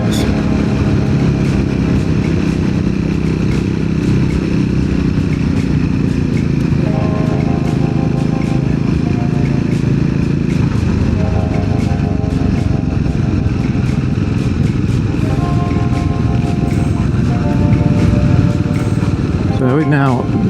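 A Triumph motorcycle with a 15-tooth sprocket cruises in third gear, its engine droning loud and steady with slight pitch shifts and wind rush, while a rider talks over it.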